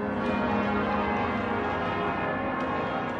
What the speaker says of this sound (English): we're able to very precisely determine when that bell goes ding